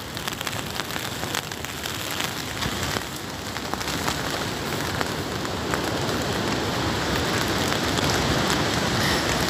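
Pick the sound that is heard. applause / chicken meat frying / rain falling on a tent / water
rain falling on a tent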